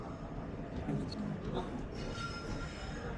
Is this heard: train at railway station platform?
yes